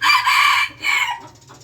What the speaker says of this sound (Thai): แต่มันเป็นไก่ต่อนะครับ